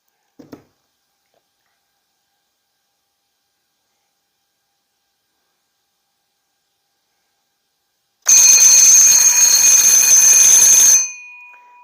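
After a brief click and long silence, a fire alarm control panel's loud electronic alarm bell rings continuously for about three seconds, then cuts off.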